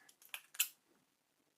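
Scissors snipping crochet yarn after finishing a magic ring round, a few quiet close snips and a sharp final cut, with no talking.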